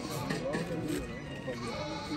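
A goat bleating repeatedly at a livestock market, wavering calls close by under the loud chatter of traders talking.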